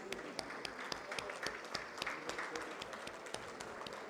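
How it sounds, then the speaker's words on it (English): Applause at a startup summit panel event after an award announcement, a moderate, fairly sparse crowd clapping with distinct individual claps, steady for several seconds with no talk over it. "Please give them a huge, huge round of applause."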